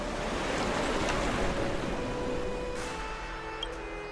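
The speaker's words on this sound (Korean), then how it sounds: "물소리만 따라가면 돼." Steady rushing water ambience in the underworld area of the Honkai: Star Rail video game, a broad continuous wash that holds at an even level throughout with no voices over it.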